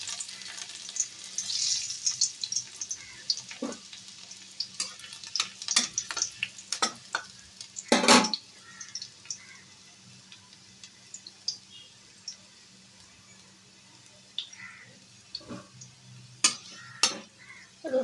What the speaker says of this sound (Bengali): থেতো করা রসুনগুলো দিয়ে দিলাম।